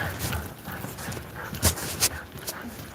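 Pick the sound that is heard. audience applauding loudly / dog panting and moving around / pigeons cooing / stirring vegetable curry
dog panting and moving around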